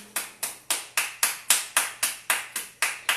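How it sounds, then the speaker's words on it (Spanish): A church congregation applauding during a sermon: about a dozen sharp, evenly spaced claps in a steady rhythm, loud and close, each with a short decaying tail, with no talking. "Dale un aplauso al Señor."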